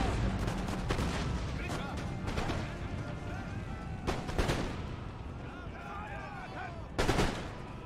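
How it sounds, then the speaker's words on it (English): Musket gunfire in an Empire: Total War battle crackles in dense, continuous volleys, with loud cracks standing out at intervals over a rumbling battlefield din, and a voice talks faintly underneath. "Just line up and gun them down."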